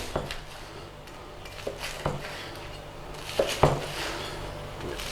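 A few sharp crunching cuts and knife taps against a plate, spaced apart, close and fairly quiet in an otherwise calm room, as a knife slices toast into soldiers.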